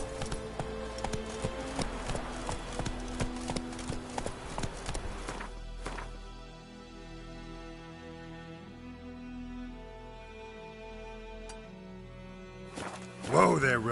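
Hooves of Geralt's horse Roach in The Witcher 3 clip-clop at a steady trot under faint game music and a voice, then fade to quiet before a brief clatter near the end.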